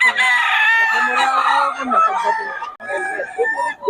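Roosters crowing loudly and close by, several long strained calls overlapping with clucking fowl, with people talking faintly beneath.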